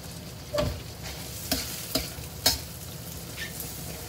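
Steady oily sizzle of beef lung deep frying until crisp, with a few sharp scrapes and clinks of a utensil stirring in the pan; no voices.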